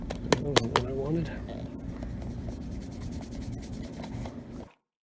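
A rag rubbing wax onto an Allen Edmonds leather shoe gives a soft, continuous scrubbing and swishing, close and quiet, with someone speaking briefly at the start before the sound stops abruptly.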